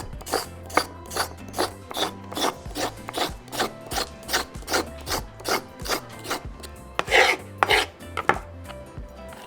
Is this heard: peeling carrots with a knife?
yes